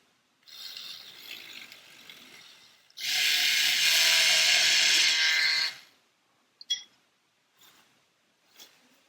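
A jar of 1960s model enamel paint is mixed mechanically: some light handling noise, then a loud, steady whirring, rattling buzz for about three seconds before it stops, followed by a few faint clicks and knocks.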